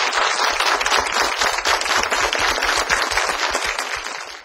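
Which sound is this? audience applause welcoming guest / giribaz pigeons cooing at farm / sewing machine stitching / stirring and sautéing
audience applause welcoming guest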